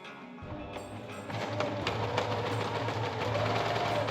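A sewing machine runs in a steady, fast mechanical whir of stitching, close and continuous after a brief quiet start.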